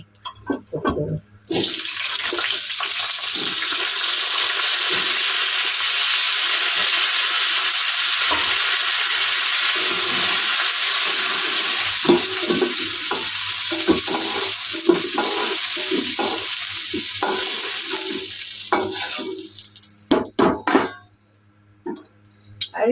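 Cauliflower frying and being stirred in oil in a wok for a Bengali pabda fish jhol, a steady loud hiss and sizzle running about eighteen seconds before cutting off, with scattered clinks of stirring.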